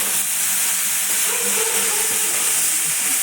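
Boiled banana flower, chickpeas and potatoes frying in a pan give off a steady, close sizzling hiss with faint stirring scrapes, heard alone with no talk.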